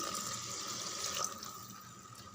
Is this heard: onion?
no